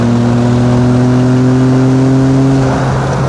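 A drift car's engine revs loudly up close, a sustained strong tone holding steady before dropping away near the end, with no voices.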